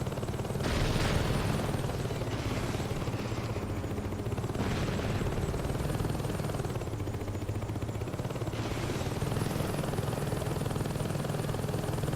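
Helicopter with mounted chain gun in Saints Row 2 during a Heli Assault activity: steady loud rotor drone throughout with bursts of rapid gunfire layered on top, no talking.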